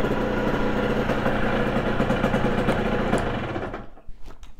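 An HM motorcycle engine runs loud and steady at a close, even idle for about three seconds, then cuts out, leaving a few faint clicks and knocks.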